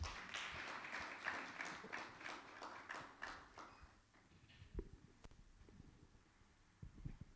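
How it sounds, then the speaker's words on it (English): Audience applause at a conference opening session: a fairly faint burst of clapping from a crowd that fades after a few seconds into scattered claps and room noise. "A round of applause for her"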